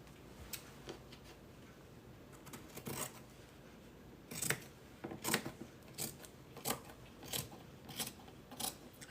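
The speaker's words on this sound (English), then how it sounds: "I need to cut the corners off of this." Scissors snipping the corners off a craft piece, a series of sharp, close cuts in an irregular rhythm, heard alone.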